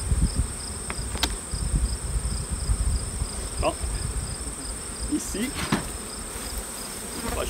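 Honeybees buzz steadily around an open hive during an inspection, a close, continuous drone with occasional louder passes from individual bees near the microphone.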